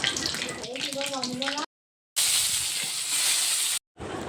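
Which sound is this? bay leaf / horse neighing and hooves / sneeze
bay leaf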